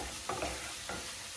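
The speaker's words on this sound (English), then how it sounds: "now what we are doing is we are scrambling the eggs, mixing them with the ground sausage" Eggs scrambled with ground sausage in a pan over fairly high heat, a steady sizzle with a few scraping stirs of a utensil, close and alone.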